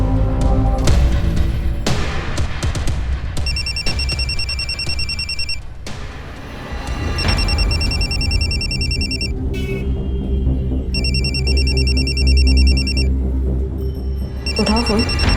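A telephone rings in repeated electronic trilling bursts, loud and close, with short gaps between the rings and voices and other sounds beneath.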